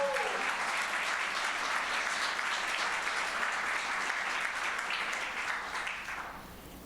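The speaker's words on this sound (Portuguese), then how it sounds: "Então dê um aplauso a Jesus por causa disso." Church congregation applauding during a sermon, a steady wash of many hands clapping that holds evenly for about six seconds, then thins and fades out near the end.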